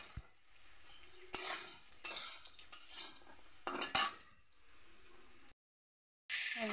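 Potatoes and jackfruit fry in oil in a pan with onion, a soft sizzle broken by repeated scraping and clinking strokes of a spatula stirring, fairly quiet and close.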